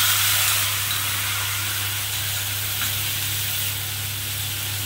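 Mustard paste thinned with water hits hot oil in a frying pan after pomfret fish has been fried, bursting into a loud hissing sizzle that slowly settles to a steady fry, close up, no voices.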